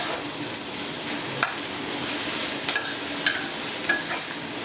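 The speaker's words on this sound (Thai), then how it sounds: "ให้ตามด้วยต้นหอมกับมะเขือเทศนะครับ ผัดให้เข้ากันครับ" Glass noodles stir-fried with spring onion and tomato in a hot pan, a continuous bright sizzle with occasional spatula clacks against the metal, close and steady.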